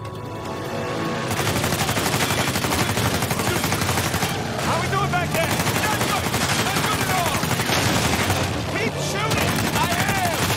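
Dense video game gunfire in Uncharted 4 on PS5, loud, rapid, continuous bursts of automatic shots and impacts, with voices shouting over it.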